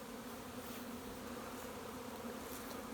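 Honey bees buzzing around hives in a beeyard: a dense, continuous drone of many wings, steady and even throughout, with no talking.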